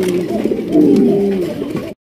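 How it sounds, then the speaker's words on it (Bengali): A large black Maltese pigeon coos in a steady, resonant murmur, its low rolling call swelling louder midway before breaking off abruptly. "এখানে রয়েছে বিশাল সাইজের ভিতরে একজন মাল্টেস কবুতর"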